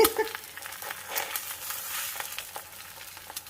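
A sunny side up egg frying in a stainless steel pan gives a quiet, steady hiss with small crackling pops and a few scraping touches, close and fairly soft, with no talk.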